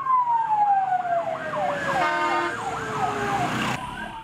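An ambulance siren wails loudly and close at the scene of a car bomb attack in Syria, its repeating rise-and-fall tone sliding gradually lower in pitch, with no talk over it.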